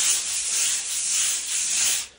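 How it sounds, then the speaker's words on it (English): Steady abrasive scraping of pole sanding on a painted wall, a continuous hissy rub in long strokes, close and fairly loud, with no talking. "we are gonna be doing that pole sanding to get all those little things off there."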